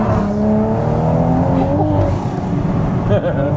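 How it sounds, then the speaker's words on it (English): A 510bhp MK5 Toyota Supra engine revs hard and steadily up close, with a brief blow-off burst from the intake toward the end. A voice is faintly mixed in. "that intake really likes to blow off every now and then"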